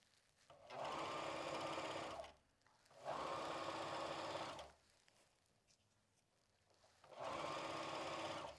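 A sewing machine stitches elastic onto the back of a swimsuit brief, running in three steady bursts of close, even mechanical whirring separated by short pauses.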